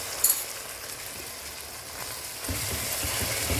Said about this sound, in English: Then I'm going to put in my tomato paste, then give it a good mix.